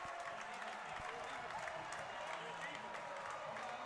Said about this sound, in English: This Palatine crowd is electric.